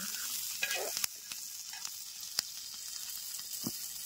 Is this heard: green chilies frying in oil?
yes